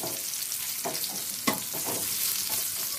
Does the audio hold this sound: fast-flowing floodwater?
no